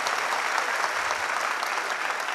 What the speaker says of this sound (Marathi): एकदा जोरदार टाळी आमच्या सगळ्या मंडळींकरता वाजवा